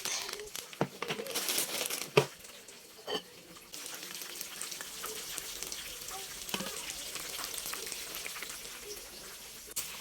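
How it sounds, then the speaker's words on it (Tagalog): Fried chicken sizzles and crackles in a pan at home, a steady, fairly faint frying hiss with occasional louder pops and clatter running through. "While waiting sa akong giluto nga fried chicken"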